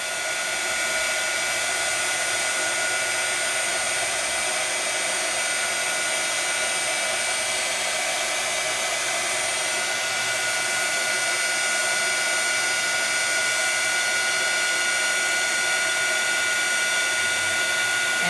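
A heat tool for melting glittery embossing powder blows with a constant, loud airy whir like a hair dryer, held steady and close throughout without pause.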